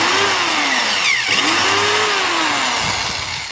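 A drill motor whirs loudly with pitch rising and falling as the bit bites in, a short continuous burst with no voices.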